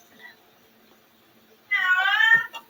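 A cat named Missy meows in a drawn-out, close, fairly loud call after a quiet stretch, followed by a short second sound.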